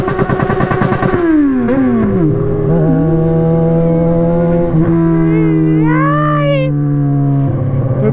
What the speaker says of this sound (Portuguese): Esse escape aqui faz barulho demais